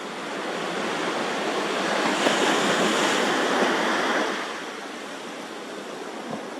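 Ocean waves breaking at the end of a pier, a loud, steady wash of surf that swells in the middle and then eases off slightly, with some wind noise on the microphone.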